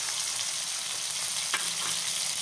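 Finely chopped tomatoes frying with boneless chicken in a karahi for chicken resha karahi, giving a steady, even sizzle throughout with a few sharper crackles near the end.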